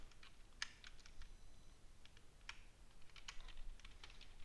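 Python code is typed on a computer keyboard, giving faint, scattered keystrokes over a steady background hiss, with no talk.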